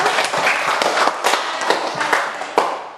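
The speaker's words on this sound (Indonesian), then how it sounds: "Ya, tepuk tangan untuk kelompok 1." A classroom of students claps for group 1 after its presentation, a close, brisk scatter of hand claps with uneven rhythm that tapers off toward the end.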